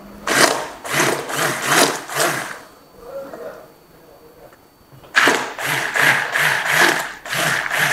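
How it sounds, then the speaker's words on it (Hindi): A hand blender whirs in pulsed, rhythmic bursts while oil is mixed into eggless mayonnaise, running loud and close for a few seconds, pausing briefly, then starting up again. "तो ये हम थोड़ा थोड़ा करके डालते जाएंगे और हैंड ब्लेंडर चलाते जाएंगे।"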